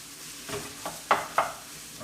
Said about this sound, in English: We're gonna get the sausage browned up here, get it all mixed in.